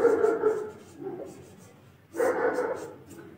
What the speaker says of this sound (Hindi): देख रहे हो मित्रों, कुत्ते भौंक रहे हैं,